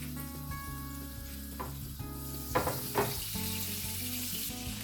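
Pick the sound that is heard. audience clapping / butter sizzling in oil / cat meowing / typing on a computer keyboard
butter sizzling in oil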